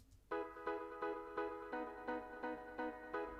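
Organ and piano panned left and right, playing repeated chord stabs in a dubwise drum and bass arrangement: about nine short, evenly spaced hits in a steady rhythm, fairly quiet and alone without talk.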